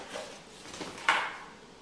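Eggplant slices are shaken inside a container of flour, giving a soft, brief rustling shuffle with one sharper burst of dry friction near the end, fairly faint and close.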